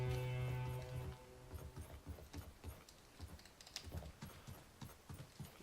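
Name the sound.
riding a pony mount in the video game Realm Royal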